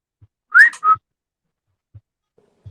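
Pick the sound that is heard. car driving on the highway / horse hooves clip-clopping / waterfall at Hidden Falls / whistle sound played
whistle sound played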